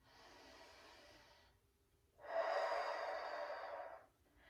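Two deep, slow breaths, an inhale and a longer, louder exhale, come through the nose close to the mic during a seated neck and upper-back stretch.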